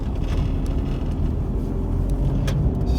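Rover Maestro Clubman 2 litre turbo diesel engine pulling steadily under acceleration, a constant low rumble from inside the car with some wind noise and no talk.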